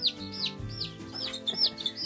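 Several young meat chicks peep loudly and rapidly close by, their high chirps overlapping in a busy chorus.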